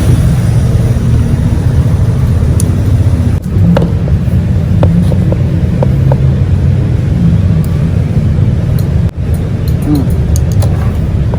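A Yamaha Lexi scooter that will not start is cranked on its electric starter, a loud steady mechanical whir close by with a few brief clicks, and no engine catching.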